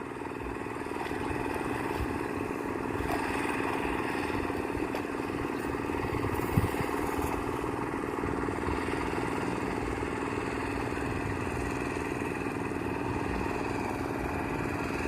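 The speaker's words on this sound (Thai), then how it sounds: "เสียงกะสีดังเลยเด้อพี่น้องเพราะว่าคนสูบน้ำออกจากสระเนาะ" A motor pump drawing water out of a pond drones loud and close without a break, a steady mid-pitched engine rumble that barely changes from start to finish.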